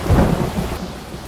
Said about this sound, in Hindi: बाहर बहुत बारिश हो रहा है